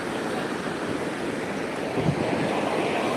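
Sea waves break continuously on Digha beach, a loud, dense wash of surf with wind buffeting the microphone and one slightly stronger surge near the end.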